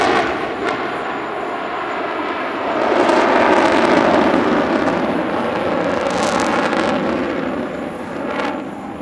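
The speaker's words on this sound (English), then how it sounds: "stunning the crowds with one of the most impressive solo jet displays ever seen at an airshow" Fighter jet in a solo flying display at the Dubai Airshow, a loud roaring engine rush that builds and sweeps past with crackling bursts, strong and continuous with no talk.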